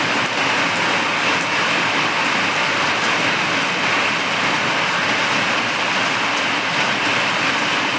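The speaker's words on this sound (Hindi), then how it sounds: "ये देखो कितनी तेज़ बारिश शुरू हो गई है" Heavy rain pours down outside under dark clouds, a loud, dense, unbroken hiss of downpour that holds steady from start to finish with no voices.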